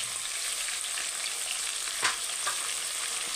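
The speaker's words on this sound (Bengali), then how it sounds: "এটাকে আমি অল্প লাল লাল করে ভেজে নেব মাংসটা" Meat frying with turmeric and Kashmiri chili powder, a steady close sizzle with a couple of brief clicks from stirring.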